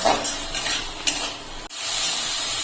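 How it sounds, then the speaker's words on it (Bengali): Spice masala being stirred and fried in a pan for rice-cooker egg pulao: soft scraping of a spoon against metal with a faint sizzle, a few clinks, fairly quiet and close. "এখন মশলাটাকে আমার ভালো করে কষিয়ে নিতে হবে।"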